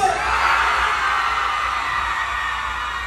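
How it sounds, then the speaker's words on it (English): A concert crowd at a mega concert in Guyana screams and whoops loudly and continuously, a dense wall of yelling voices sustained throughout. "Everybody, scream!"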